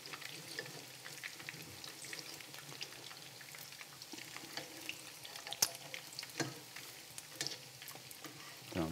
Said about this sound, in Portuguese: deixa fritar a massa bem de um lado e do outro